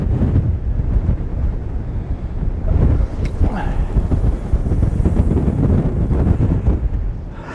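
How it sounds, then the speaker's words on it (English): Strong wind blowing across a sea fishing pier, buffeting the microphone in a steady, loud roar for the whole stretch, with low rumbling gusts and a faint wash of surf behind it. "That wind's picking up."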